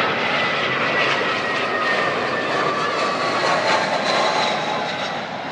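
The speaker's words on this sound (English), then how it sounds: "It's a United A320" A United Airlines Airbus A320 jet airliner takes off at BWI airport, giving a loud, steady, broad engine roar with a faint whine that holds evenly throughout and no talking.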